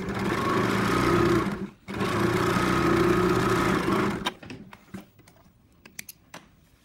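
A sewing machine stitches fabric in two steady, loud runs separated by a brief stop, then falls quiet apart from scattered clicks and taps of handling.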